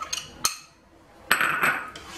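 Lentils being mixed with cilantro and onion in a dish give a couple of sharp utensil clinks against the bowl, then a brief scraping, stirring rustle.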